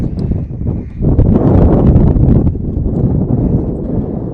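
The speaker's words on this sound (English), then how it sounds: "a gust of wind has just blown over a camera tripod and my script" Wind gusts hard across a microphone at an outdoor girls' high school soccer game, a loud, close rumbling buffet that swells after the first second and stays strong.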